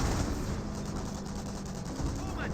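Gunfire and tank cannon shots from a Company of Heroes 1 World War II battle involving Sherman and Pershing tanks: a dense, continuous roar of overlapping shots and rumbling blasts that stays loud for the whole stretch.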